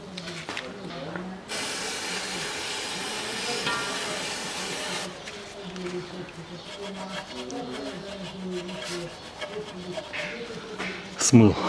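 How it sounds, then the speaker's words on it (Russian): Carburetor cleaner sprays from a can in one steady, close hiss of about three and a half seconds while cleaning around the engine of a Land Rover Discovery 4, and someone talks over the following moments. "Смыл обычный очиститель карбюратора"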